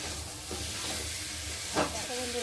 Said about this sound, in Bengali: তো দেখো, একটু ভালো করে নেড়ে চেড়ে নেবো